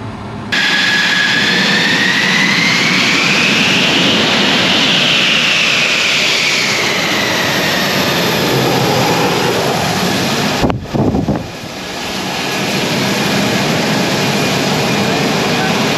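An F-16 Viper fighter jet taxiing at an airshow: a loud, steady turbine roar with a high whine that rises and falls, then a brief gusty break before the roar swells back, heard alone with no talk.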